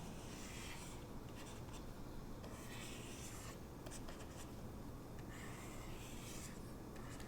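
A pen draws three Venn diagram circles on paper, a continuous faint scratching and rubbing with slight surges in stroke pressure, quiet and close over steady background hiss, no voices.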